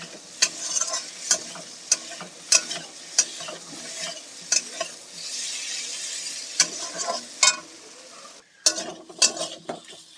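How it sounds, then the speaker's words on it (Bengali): Potatoes stir-fried with spice masala in a pan for egg and potato dhoka curry, a soft constant sizzle punctuated by repeated sharp spatula scrapes and knocks against the pan at an uneven rhythm. "এখানে আমি আলুগুলোকে দিয়ে দিচ্ছি আলুগুলোকে মশলার সঙ্গে খুব ভালোভাবে কষে নিচ্ছি"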